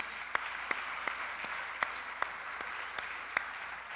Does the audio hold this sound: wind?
no